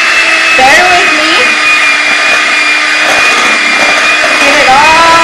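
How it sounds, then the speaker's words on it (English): An electric hand mixer beats chocolate cake mix for a crockpot lava cake, a loud, steady motor whine that runs unbroken throughout, with a voice talking faintly underneath. "I would normally use my big mixer, but I'm just going to use the hand one"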